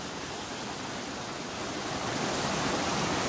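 Jake's Creek rushing beneath a wooden footbridge in the Great Smoky Mountains, a steady broadband wash of flowing water, close and constant, with no voices.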